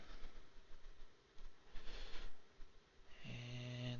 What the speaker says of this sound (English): And there's an incoming train.